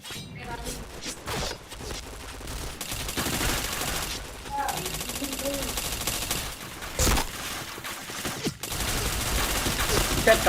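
Gunfire in the Point Blank shooter game, rapid bursts of shots and mechanical clicks recurring through the clip, fairly faint and mixed with a player's talking.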